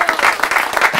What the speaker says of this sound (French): Je pense qu'on peut l'applaudir aussi